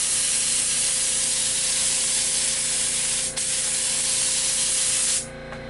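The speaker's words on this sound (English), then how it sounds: "But basically I am getting a good spray pattern. It's just splattering." An inexpensive HVLP spray gun sprays thinned latex paint in one loud, steady hiss lasting about five seconds, with a brief dip midway, then cuts off sharply to a quiet motor hum.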